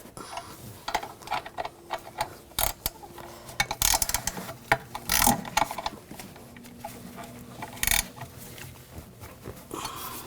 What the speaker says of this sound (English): Now put the nuts on underneath. And tighten those up.